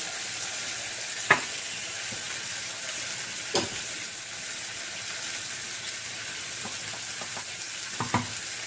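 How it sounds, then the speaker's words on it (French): Continuous hissing sizzle of garlic frying in hot oil, with a few scattered clinks and taps of a utensil against the pan. "Là, je vais mettre mon ail. Ça cuit un peu."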